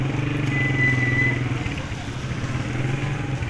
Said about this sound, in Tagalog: Ito yung kanilang terminal ng mga motor.